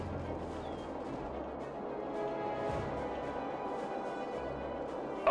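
Cannon fire in a WWII real-time strategy video game, with scattered sharp blasts and distant battle rumble over a constant low background, moderately loud.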